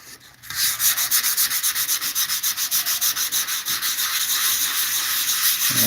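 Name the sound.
sanding car body with 80 grit paper on stiff block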